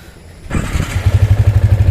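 A 2014 Yamaha Vixion motorcycle engine starts up close and loud, catching after a brief crank and settling into a fast, even idle putter.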